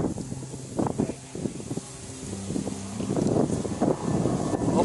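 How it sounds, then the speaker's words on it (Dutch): Wind gusts across a carp fishing spot, buffeting the microphone with steady low rumbling that strengthens toward the end, with faint tonal creaks and rustles mixed in. "Het is aan het waaien."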